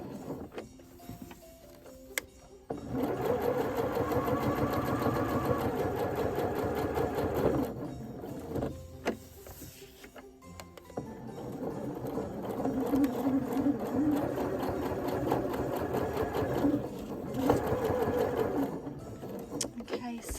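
A sewing machine stitches a fabric winter crown, pivoting at each corner while working up and down the points. It runs in two long steady bursts separated by a short pause, fairly close and loud.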